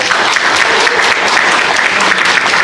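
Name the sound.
audience applause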